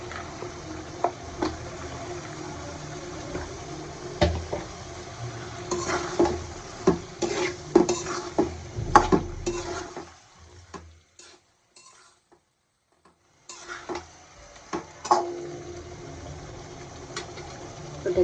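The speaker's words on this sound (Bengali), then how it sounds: "চিকেনটা আমি কষাই নিয়ে নিলাম" Chicken fries in spice masala in a pan while being stirred, with repeated sharp scrapes and clatters of a utensil over a steady sizzle, then a quiet pause before the stirring resumes.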